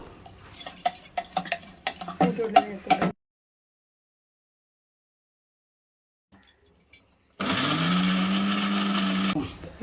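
A kitchen mixer grinder blends gongura chutney ingredients in short, loud bursts. A clatter of stirring and utensils comes first, then silence, then a steady high whirring run of the grinder.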